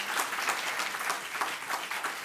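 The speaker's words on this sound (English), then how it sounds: "Let's give them a round of applause." Audience applause at a talk on generative AI and business strategy, a steady wash of many hands clapping at moderate loudness with no voices over it.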